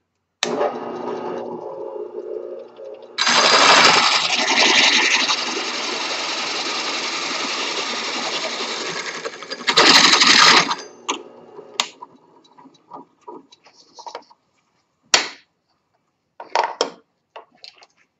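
A powered saw slices through a glued-up segmented wood piece, a loud steady whining buzz of about seven seconds after a brief startup, ending in a sharp burst, followed by scattered clatter and handling knocks.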